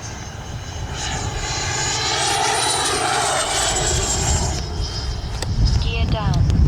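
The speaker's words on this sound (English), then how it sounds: "I'm gonna bring her right down the runway now." A Freewing Avanti S V2 RC jet comes down to land on a runway in gusty wind, its loud, steady ducted-fan whine rising and then falling as it passes close by, with wind noise and someone talking underneath.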